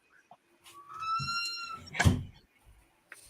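A squeaking door gives a high, drawn-out, cat-like squeal that rises and wavers for about a second, then ends in a louder thump nearby.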